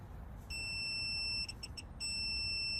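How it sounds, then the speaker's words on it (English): A digital torque wrench with a 3/8 drive ratchet sounds a loud electronic beep at its target torque: a steady tone, a quick stutter of short beeps, then an unbroken tone, over low background rumble and with no talking. "once you hear that beeping, you want to slow down, and then you can fully stop at that full beep."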